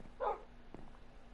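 A wolf in Minecraft, in an underground cave, gives a single short bark that stands out clearly against the quiet ambience, followed by a faint click.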